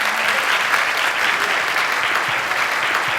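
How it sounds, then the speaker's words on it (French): An audience at a school event applauds very loudly, dense sustained clapping from a large crowd that holds steady throughout, with no talk over it. "On les applaudit très très fort"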